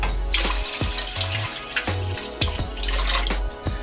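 Water poured into a cooking pot for pickle brine, a continuous close splashing stream with gurgling and small drips throughout, no voices.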